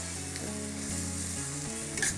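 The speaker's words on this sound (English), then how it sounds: "Frying." Food sizzles steadily in a hot frying pan while a stir-fry cooks, a continuous close crackle with faint stirring clatter and a brief louder flare near the end.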